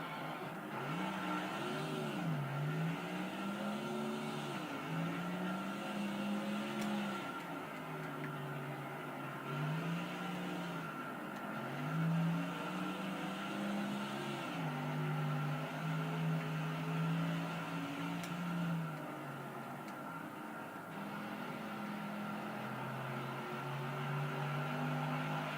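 Race car engines roar around the Infineon road course in NASCAR Thunder 2004, with a steady drone rising and falling through repeated gear shifts and revving as the cars accelerate out of the corners.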